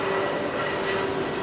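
A jet airliner on its take-off run at Heathrow runway 27R gives a steady, loud engine roar with a thin whining tone, unbroken for the whole brief moment.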